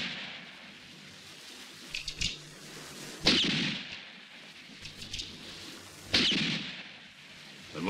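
Two sharp pistol gunshots in a Western gunfight ring out some three seconds apart, each with a rumbling tail. A few fainter cracks and a low, steady ambience sit between them.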